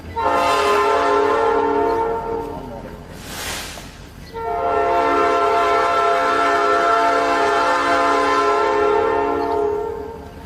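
A train horn blasts long and loud twice, split by a short whooshing gap of train rumble, the rich chord-like tone holding steady over the passing train.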